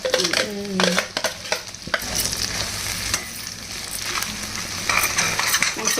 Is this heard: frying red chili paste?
yes